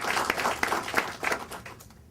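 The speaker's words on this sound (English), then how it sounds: "I invite you to applaud Colonel again for that." An audience at a biennial meeting of Caribbean National Observatories applauds a Colonel. The clapping comes as a short, lively burst that quickly fades out.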